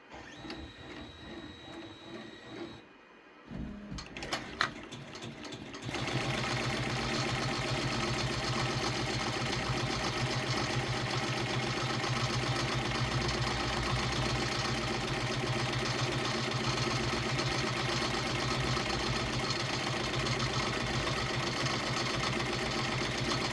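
A Redline 1501 embroidery machine stitches an applique onto a child's shirt, starting with a few clicks before settling into a steady, fast, continuous mechanical whir that runs uninterrupted to the end.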